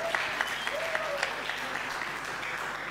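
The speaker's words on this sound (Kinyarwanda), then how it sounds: "Amashyi menshi" Steady applause from a crowd at a talent show audition in Huye, Rwanda, many hands clapping evenly for a few seconds with some louder individual claps and a voice talking over it.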